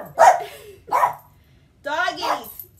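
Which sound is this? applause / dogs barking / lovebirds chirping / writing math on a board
dogs barking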